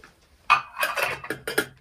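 A lid is set on a small camping pot indoors while ramen is prepared with outdoor gear, making a series of sharp, close metallic clinks and rattles in quick succession.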